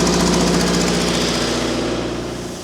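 A Miller Air Pak 400 welder's engine runs hard at full throttle, a loud, steady mechanical roar with a rapid knocking pulse that holds nearly constant and eases slightly toward the end.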